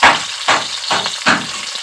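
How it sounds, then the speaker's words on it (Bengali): Bata fish fry in hot oil, the sizzle swelling in four short bursts as pieces are moved or turned, close and fairly loud. "খুব ভালো করে 2 সাইড লাল করে মাছগুলোকে ভেজে নিয়েছি।"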